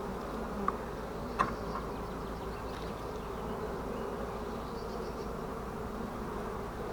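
A dense, continuous drone of many honeybees buzzing close by at an open hive during a colony inspection, with a couple of brief clicks early on and no talking.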